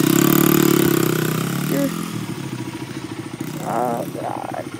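A Honda XR pit bike engine idles close by with a steady low putter, loud at first then settling slightly, while people talk over it.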